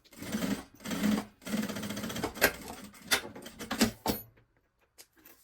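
Sewing machine stitching the layers of a fabric maternity bag together, running in several quick bursts of rapid mechanical stitching with brief pauses, close and fairly loud, then stopping into near silence.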